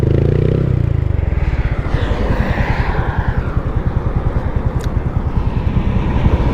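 Motorcycle engine droning steadily at speed during a long ride on a budget-tuned bike chasing 140-plus km/h, with rapid rhythmic pulsing and wind rush, loud and continuous throughout.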